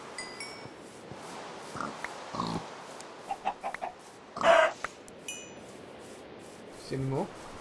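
Short video game pig grunts and snorts come in scattered bursts, with a louder grunt in the middle, against a quiet backdrop.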